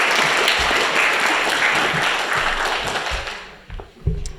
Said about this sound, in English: they deserve a round of applause for their hard